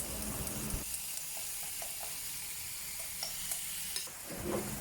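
Ground beef frying over medium heat in an oiled pan with sautéed garlic, steady close sizzle with scattered light scrapes of stirring and flipping, no talk.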